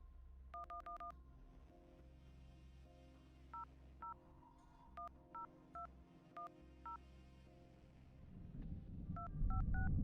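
A phone number is keyed in on a phone in the Red Strings Club video game: about a dozen short, clear beeps of dialing tones come in uneven clusters over a quiet background, followed by a rising rumble at the end.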